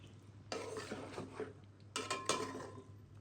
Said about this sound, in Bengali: এই যে আবার নাড়লাম